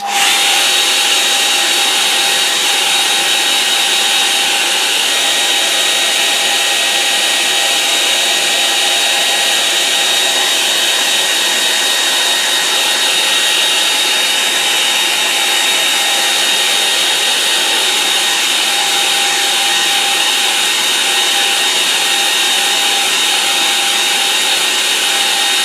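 A hair dryer blows steadily to dry wet paint during a script brush painting session, a loud continuous whooshing roar with a constant motor whine that never changes for the whole stretch, with no talking.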